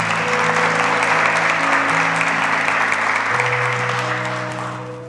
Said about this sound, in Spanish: ¿Lo aplauden?